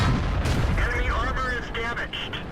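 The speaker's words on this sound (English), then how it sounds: "Putting another shot into him" A Sherman Jumbo tank cannon fires in World of Tanks, a heavy low boom followed by a rumbling tail, with someone talking over it.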